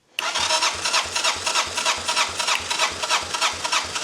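A 1985 Honda Elite scooter engine cranks over on the starter in a fast, even rhythmic chug, loud and close, without catching to idle.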